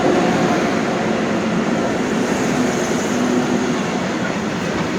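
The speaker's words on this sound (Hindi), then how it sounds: "ये और एक ट्रैक में दूसरी ट्रेन आ रही है" A train passes close by on the adjacent track during a rail journey, a steady loud rumble of wheels and carriages filling the whole span without letting up.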